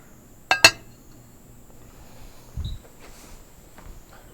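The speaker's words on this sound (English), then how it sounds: "you grab the dinner plate and kind of line it, put it inside your base plate" A ceramic dinner plate is set onto a base plate in a table-setting exercise, giving two quick sharp clinks close together followed by a softer knock of dishes in an otherwise quiet room.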